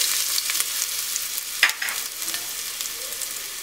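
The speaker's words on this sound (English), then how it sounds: "1 star anise, 2 elaichi, 4 cloves. Fry this for some time." Whole spices, star anise, cardamom and cloves, frying in hot oil in a pot: a continuous bright crackling sizzle with a brief stir or pop partway through, close and alone.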